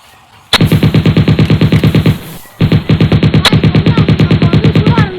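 Rapid automatic gunfire in a Tamil short film action scene, two long loud bursts of evenly spaced shots separated by a short gap, close and sharp.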